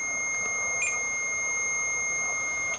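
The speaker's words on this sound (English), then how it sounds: "It beeped." A ghost-hunting device at the Ancient Ram Inn gives off a steady high electronic tone with a brief sharper chirp near the start. It is clear and alone, with no talk.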